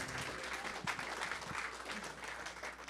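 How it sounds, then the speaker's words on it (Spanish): Church congregation applauding loudly during a Spanish-language worship service, a dense sustained wash of clapping with a few sharper claps near the front, steady throughout. "Denle un fuerte aplauso al Señor."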